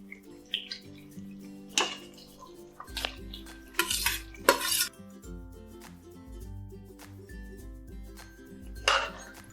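Moth beans tipped into a pan of spiced gravy for misal and stirred, with repeated clinks and scrapes of a metal spoon against the pan and a few louder clattering bursts, close by with no talk.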